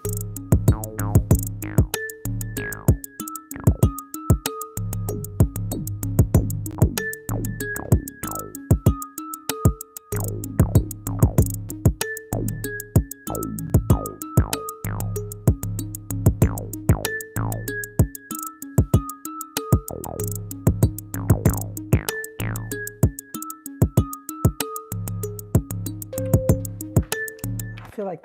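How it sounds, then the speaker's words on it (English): An acid synth line loops as a squelchy, resonant melodic pattern over steady punchy drums in a beat-making session, bright and continuous throughout. "I kind of keep coming back to this acid sound"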